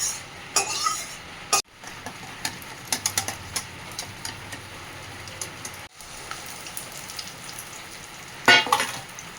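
An egg fries in a lightly oiled pan for an egg roll, giving a steady crackling sizzle with scattered sharp pops and clatters from utensils, close and moderately loud, with no talking.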